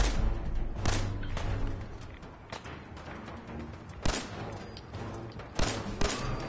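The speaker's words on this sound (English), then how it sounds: "Yo, I fucking heard a bullet just whiz past my head" Repeated bursts of gunfire from the video game Fallout 4, with sharp shots scattered across the clip, a few louder cracks standing out against a busy, noisy game background.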